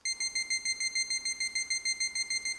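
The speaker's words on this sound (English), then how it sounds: "Please note that you will have a 6-minute warning sound like this." Rapid, evenly spaced electronic beeps from a timer warning, high-pitched and loud, repeating steadily without pause.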